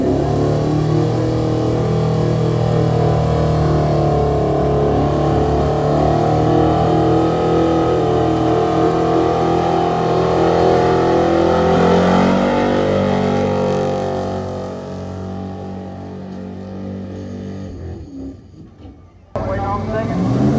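A 1965 Ford F250 pulling truck engine revs hard and loud at close range, a steady throaty roar that rises in pitch, then drops away and cuts out near the end.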